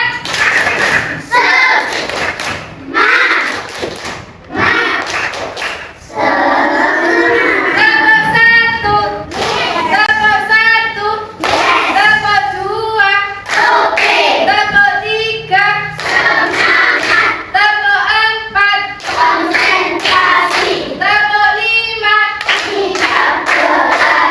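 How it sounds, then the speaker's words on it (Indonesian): A classroom group performs a spirit clap, bursts of rhythmic clapping in patterned sequences with short pauses between sets, loud and close, with voices chanting or calling along at times. "Tepuk semangat."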